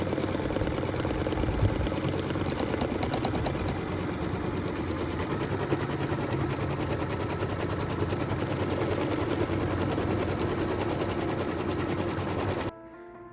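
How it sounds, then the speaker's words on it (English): A sewing machine runs steadily and close, stitching a tack-down line on a triangle filler quilt block to hold the fabric taut against the batting. The dense mechanical whir continues unbroken for most of the clip and cuts off just before the end. "I can go ahead and stitch the tack down line"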